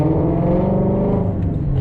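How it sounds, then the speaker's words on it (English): Car exhaust revving loudly and close, a deep rumbling engine note that rises and holds steady for a couple of seconds with no voices over it. "hopefully you can hear me right now over the exhaust"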